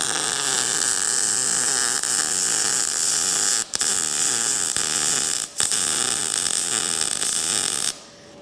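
Gun welding a corner joint, a steady close buzzing crackle that holds for several seconds, breaks briefly twice, then stops.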